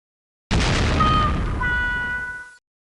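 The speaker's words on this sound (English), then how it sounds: "Consumer fireworks are very dangerous." Consumer fireworks go off in a single loud, sustained burst of crackling and hissing that lasts about two seconds and then cuts off abruptly.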